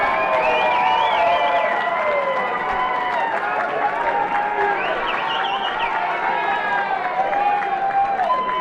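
Rugby crowd at a NERU Grand Final cheers and applauds as a two-time try scorer leaves the field, a broad sustained roar with shouts rising through it while a commentator talks over the top.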